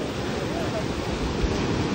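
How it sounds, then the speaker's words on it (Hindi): Ocean surf on Calangute beach in Goa, a steady broadband wash of breaking waves and wind that fills the whole stretch without pause, loud and close, with no one speaking. "लेकिन जब लहरें आती हैं तो उसको बाहर की तरफ भेजती हैं"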